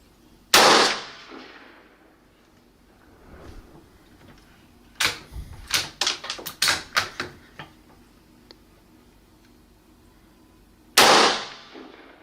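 Low-caliber rifle shots fired at targets set at different distances, heard as sharp, close cracks: one near the start, a rapid cluster of about eight quick reports in the middle, and a final shot near the end, with quiet gaps between.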